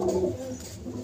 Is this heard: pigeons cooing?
yes